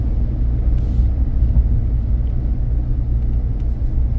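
A 2012 Ford F150 pickup with the 3.5 engine cruises along, producing a steady low rumble of engine and road noise from inside the cab, continuous and fairly loud with no talk.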